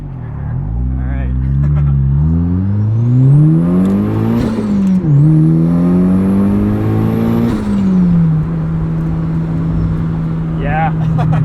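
A turbocharged 2003 Mazda Miata NB with 240 wheel horsepower accelerates hard, engine pitch climbing, dropping briefly at a first-to-second gear shift, then climbing again before settling to a steady cruise, with a turbo whistle.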